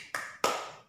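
Two sharp group claps about 0.3 seconds apart, children doing the 'tepuk anak soleh' rhythmic clap in a classroom, each clap bright and ringing briefly before fading, with no voices.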